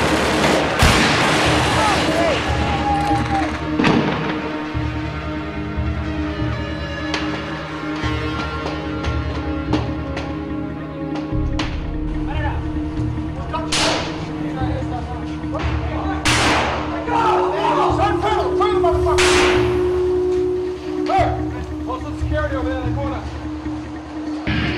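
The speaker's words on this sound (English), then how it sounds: "Firing as much as they can, so you're literally in the middle of a gunfight." Sustained gunfight in Fallujah: dense bursts of rifle and machine-gun fire crack repeatedly over a steady low engine drone, with loud booming shots spiking throughout and voices talking underneath.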